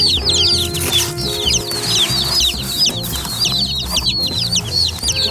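A crowd of baby chicks just collected from the post office peeps constantly, with many high, shrill chirps overlapping close up and loud, along with faint rustling in their box.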